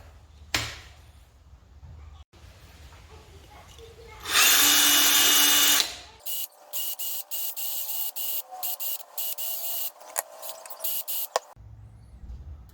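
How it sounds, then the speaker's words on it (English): A drill press bores string-through holes in a Strat-style guitar body, a steady loud whine for about two seconds, followed by a quieter whirring spin-down with intermittent clicks and knocks. "drill those through with a drill press so they're nice and straight through"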